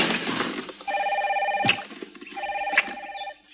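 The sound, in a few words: car telephone ringing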